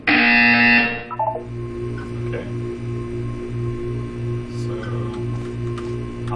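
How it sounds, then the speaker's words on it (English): A loud electronic buzzer in the game Portal 2 blares for about a second, then cuts off, leaving a steady, rhythmic ticking pulse over a faint hum. "You will hear a buzzer."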